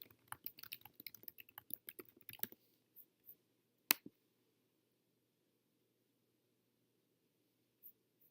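Someone types a search on a computer keyboard: a quick, irregular run of close, crisp key clicks for a couple of seconds, then a few isolated taps spaced apart, with no talking.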